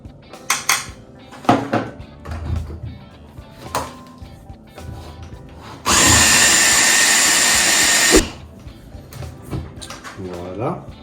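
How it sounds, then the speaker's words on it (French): Electric mixer whirring loudly and steadily for about two seconds as it blends banana peel cake batter, framed by clinks of bowls and utensils and someone speaking French. "Voilà, vous mixez tout ça."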